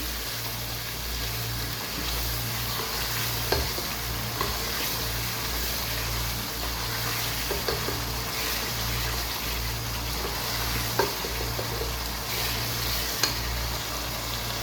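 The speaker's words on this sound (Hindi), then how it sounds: "वो भी इसके अंदर मैं ऐड कर दूँगी। अच्छी तरह मिक्स करूँगी।" Mutton paya masala frying in a pan as whisked yogurt is stirred in, a steady close sizzle with a low hum beneath and a few faint spoon clicks, no talking.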